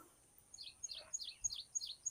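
Clear, repeated bird chirps in a regular series, fairly close, over a quiet background.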